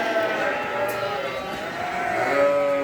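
Thin young lambs bleat at feeding time on a farm, several overlapping wavering calls near and far against a noisy pen background, with no talk.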